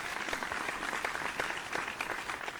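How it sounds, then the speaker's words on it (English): A studio audience at a televised singing competition applauding, with steady, close clapping from many hands that carries on evenly throughout. "Round of applause, ladies and gents."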